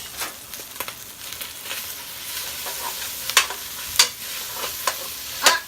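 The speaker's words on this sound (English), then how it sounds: "now I'm cooking my turkey burger" Turkey burger meat sizzles softly in a pan while a utensil stirs and scrapes it, with several sharp clicks and scrapes punctuating the steady frying hiss; no talking.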